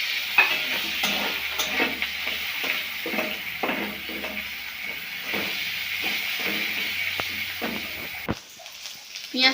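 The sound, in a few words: chopped onion frying in oil with spices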